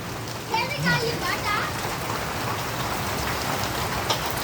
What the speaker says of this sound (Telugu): చిన్న చిన్న రాళ్ళ వర్షం అయితే పడుతుంది